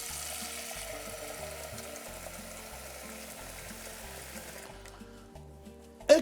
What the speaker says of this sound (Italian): Qui ci mettiamo l'acqua sì,